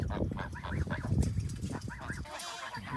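Farmyard geese, among them goslings, honk harshly and squabble at close range in rapid overlapping calls with no pauses.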